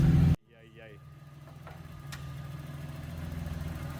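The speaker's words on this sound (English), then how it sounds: "You'll hear how sometimes when it's idling, it just dips and comes back alive" A VR6 12-valve AAA engine with an electrical fault idles after an abrupt cutoff of a louder sound, running low and steady and slowly building. The idle dips and recovers.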